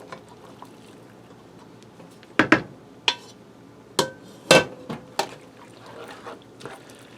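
Boiled penne pasta is tipped into a skillet of barbecue pork, giving a few sharp, clattering wet thuds and scrapes of pasta hitting the pan and utensil, spaced over several seconds against a quiet background.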